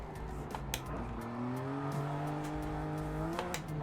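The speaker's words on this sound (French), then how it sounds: "Elle drift un peu, ça va." A BMW 1M drifts in Forza Horizon 5, its engine droning and shifting pitch as the tires squeal through a tight left-hand turn, steady and close throughout.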